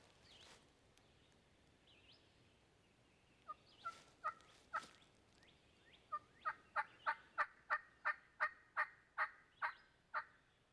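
A wild turkey gobbles from a distance in Tennessee hill country, a run of rapid repeated gobbles in the open air with some faint bird calls before.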